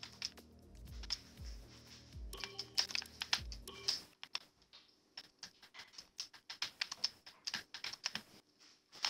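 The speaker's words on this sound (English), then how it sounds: "Sorry if you can hear that button clicking." Rapid, irregular clicking of a button or keyboard during an online Bahrain league race in the game RSF1, sharp close ticks repeating through the whole stretch over a low engine drone early on.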